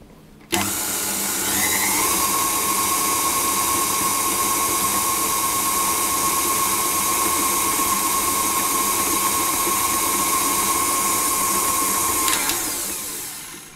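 An electric mixer whirs steadily through cake batter with vanilla extract added, starting suddenly and running loud and continuous at one constant pitch for about twelve seconds before cutting off.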